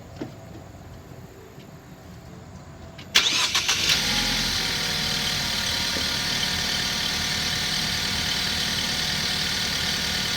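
A car's engine cranks and catches partway through, then settles into a steady, fairly loud idle that runs on alone after a quiet stretch of faint background noise.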